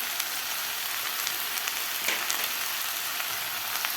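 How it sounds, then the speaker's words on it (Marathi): Carrot, potato, tomato, capsicum and beans sauté in hot ghee, giving a steady, even sizzle close by with a few faint stirring clicks and no talking. "आता भाज्यासुद्धा आपल्याला एक मिनिटभर व्यवस्थित परतून घ्यायच्या आहेत ह्या तुपामध्ये"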